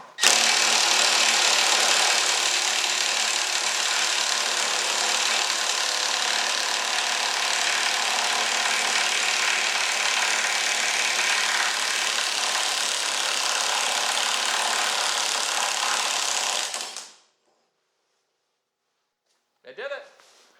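Two 1/2 inch Harbor Freight Earthquake XT impact wrenches run together on large bolts, making a loud, harsh, sustained rattling roar for about seventeen seconds. It stops abruptly, and a short burst follows a few seconds later.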